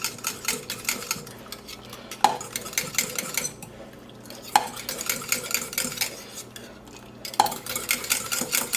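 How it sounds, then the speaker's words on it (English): A whisk stirs miso into hot dashi stock, a steady rapid metallic scraping and clinking against the pot, with three sharper knocks spaced through the stretch, close and moderately loud with no talk. "And put the ladle in the hot liquid here. And use a whisk to break it up."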